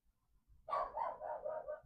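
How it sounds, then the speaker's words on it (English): A dog named Crumley barks in a quick run of about four or five close, clear woofs in a quiet room, with no voices. "Crumley is barking."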